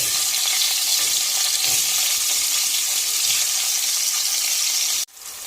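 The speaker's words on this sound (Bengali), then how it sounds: "আলুগুলো ভেজে নেবো এই তেলে" Potato pieces frying in hot oil for egg curry give off a constant, bright sizzle that holds steady, then drops away abruptly near the end.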